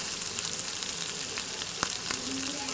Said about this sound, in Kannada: ನೀಟಾಗಿ ಫ್ರೈ ಆಗ್ತಿದೆ ನೋಡಿ